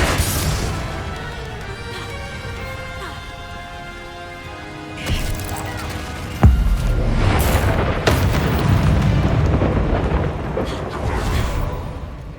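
Spell combat in Hogwarts Legacy: Confringo, Bombarda, Expelliarmus and Descendo blasts. Music-like tones and quieter effects give way to a sequence of heavy booms, crashes and bursts, including a sharp impact midway, loud and close.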